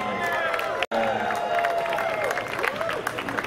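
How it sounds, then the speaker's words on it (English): An audience at a Star Wars costume contest at the TCL Chinese Theater breaks into applause and cheering, a dense wash of clapping with crowd chatter mixed in, briefly cut off for an instant before carrying on. "Big round of applause for Brenna."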